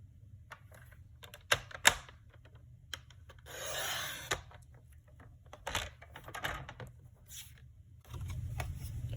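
Cardstock being cut on a paper trimmer for a framed card, heard as close soft rubbing and sliding swishes with scattered light clicks and taps.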